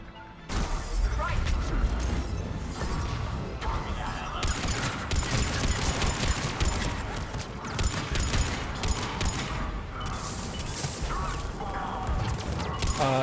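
Dense, continuous gunfire and crashing impacts from the Mass Effect 3 Grissom Academy mission, loud and sustained with bursts and booms throughout, over an underlying game soundtrack.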